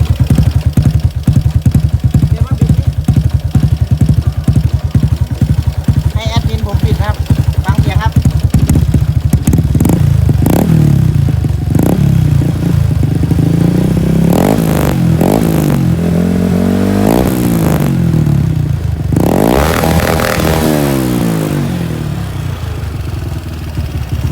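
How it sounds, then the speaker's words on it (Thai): A loud motorcycle engine idles with a rapid throbbing exhaust, then revs up and down several times, the roar rising and falling up close. "ฟังเสียงเครื่องครับโคตรดังฟังเสียงท่อครับผม"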